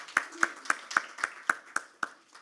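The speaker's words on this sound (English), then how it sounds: "Please give me a big round of applause." A single person clapping at a conference talk, about nine sharp, evenly spaced claps close by, with a faint hum behind.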